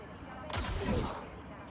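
A burst of rapid gunfire from the video game Cyberpunk 2077 crackles faintly in the background, brief and distant, with speech in the mix.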